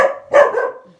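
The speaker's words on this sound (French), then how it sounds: "ça c'est mon chien." A dog gives a short bark-like yelp followed by a second, louder harmonic bark that trails off, close by and with no talk over it.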